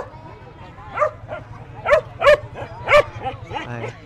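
Several dogs bark at a highland market in northwest Vietnam, with sharp yips and barks in scattered bursts over a steady low background murmur.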